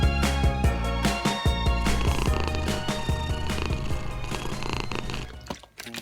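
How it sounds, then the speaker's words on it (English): A toy cat gives a steady, loud purring rumble layered with bright electronic tones, continuing alone for about six seconds before dipping near the end. "Cat."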